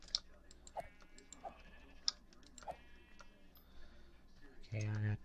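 Sheep bleat in a Minecraft game several times at spaced intervals, short wavering cries mixed with soft mouse and keyboard clicks, with a louder tonal burst near the end.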